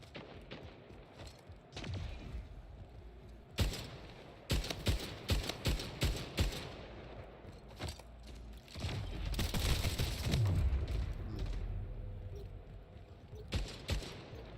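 Rapid bursts of gunfire from the online shooter Splitgate in 3v3 ranked play, with repeated single shots and sustained automatic fire, loud and dense throughout.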